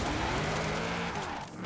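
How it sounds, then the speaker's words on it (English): A GMC Syclone pickup in Forza Horizon 4 drives with a loud, steady engine roar and brief tire squeal, heard close and alone for under two seconds. "The GMC Syclone, a fantastic little car to Forza Horizon 4."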